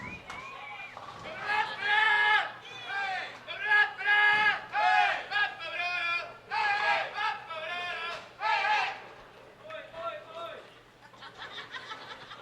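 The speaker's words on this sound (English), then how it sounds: "Crowd having fun here." A crowd at a senior team bowling championship medal round cheers and chatters in repeated loud bursts of shouting and laughter, with voices rising and falling across the hall.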